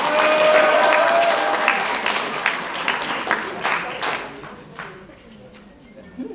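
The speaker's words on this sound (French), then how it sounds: "on pourrait les applaudir bien fort au fur et à mesure" Audience applause at a cosplay contest, dense clapping that swells early and then thins out and fades over several seconds, with some voices mixed in.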